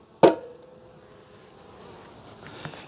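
A honeybee swarm, at least eight frames strong, buzzing inside a beehive while storing nectar; a soft, steady hum runs throughout, with a sharp knock near the start and a faint bump near the end.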